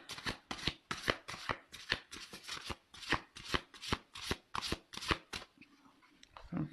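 Tarot cards being shuffled by hand in a steady run of crisp riffling flicks, close and quiet, with no talking.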